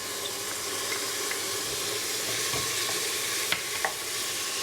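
Turmeric powder, cumin and ginger garlic paste fry in hot oil for chickpea channa, giving a loud, steady sizzle with a couple of brief spoon scrapes and taps.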